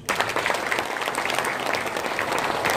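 Steady, dense applause from an audience at a breakfast meeting of a chamber of commerce, filling the whole stretch at a fairly loud, even level with no talk over it.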